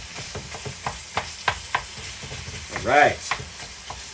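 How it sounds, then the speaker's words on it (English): Fish sears in a hot pan, a soft steady sizzle under a series of sharp clinks and scrapes from stirring or utensils, with a brief spoken word near the end. "So I'm gonna let that sear."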